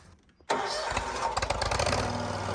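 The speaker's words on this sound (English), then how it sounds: "So typically I will pull up a little bit on the choke and I'll take my left hand to start it." A John Deere Z950M zero-turn mower engine cranks and catches after a brief quiet moment, then settles into a steady, loud running rumble close by.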